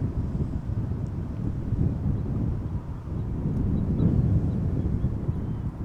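A KLM Boeing 787-9 Dreamliner airliner arriving at Amsterdam Schiphol Airport after a long flight from Cartagena, heard as a steady, loud low roar with gusty wind buffeting, swelling slightly toward the end.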